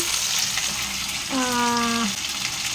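Potatoes frying in a pan for a home-style potato and long bean curry with prawns, a steady broadband sizzle throughout with a brief tonal scrape or squeak near the middle.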